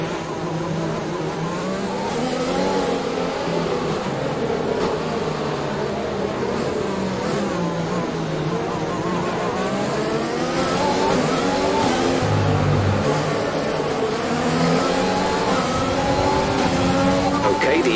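F1 2020 race cars in a video game pulling away together after a safety car period, engines droning and rising in a steady, dense roar throughout, with a voice talking over the engine noise.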